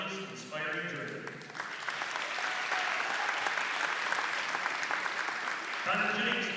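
Audience at a girls' varsity basketball game ceremony honoring breast cancer survivors breaks into sustained applause, a dense clapping wash that swells and holds steady throughout, with a voice speaking over it at the start and again near the end.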